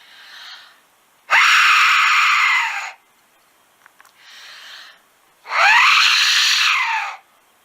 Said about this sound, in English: That is an Aztec death whistle.